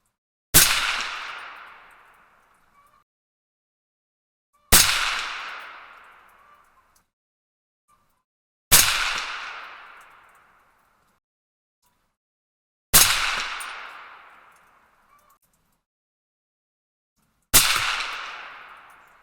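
A 300 Blackout rifle firing 150gr Speer Gold Dot loads, partly into ballistic gel, gives five loud, sharp shots spaced about four seconds apart, each cracking and then fading quickly, with nothing else heard in between.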